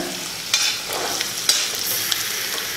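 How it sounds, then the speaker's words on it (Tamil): Chopped onion and radish sauté in a pan for Tamil radish chutney, with a steady close sizzle broken by a few scraping stirs. "வெங்காயம் பாதி இருக்கு இன்னும் கொஞ்சம் வதங்கணும்"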